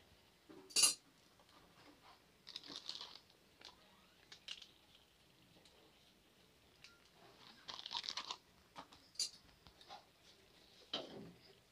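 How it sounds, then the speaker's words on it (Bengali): A metal spoon stirs a ridge gourd vegetable curry in a cooking pot, with short scraping and clinking bursts that come and go at close range, and no talking. "ভালো করে মিশিয়ে নেব।"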